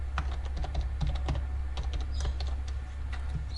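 HTML and CSS code for a responsive website is typed on a computer keyboard as a steady patter of close key taps over a constant low hum.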